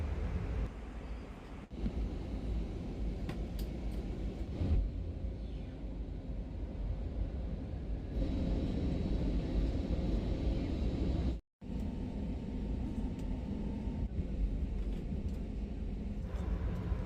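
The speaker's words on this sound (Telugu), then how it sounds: "ఇప్పుడు ఫ్లైట్ అయితే కింద దిగుతుందండి." Steady low roar of an airplane cabin as the flight descends through clouds to land, a broad constant rumble with a brief dropout partway through and no talk.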